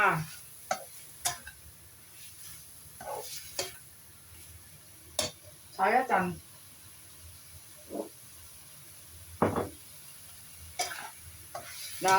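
Stir-frying for a Chinese dish in a wok: intermittent scrapes and clacks of a spatula against the metal over a faint, steady background hiss.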